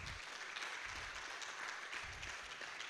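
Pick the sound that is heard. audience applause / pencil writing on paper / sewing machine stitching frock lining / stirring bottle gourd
audience applause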